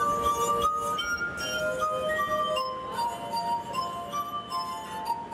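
Glass harp played by a street performer in Alexandria, Virginia, performing Beethoven's Ode to Joy, with bright ringing sustained glassy tones gliding from note to note, a faint murmur of the outdoor setting behind.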